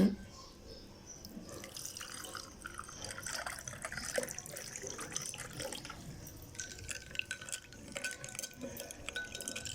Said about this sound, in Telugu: సోడాను వేసేసుకున్నామండి, సోడా వాటర్.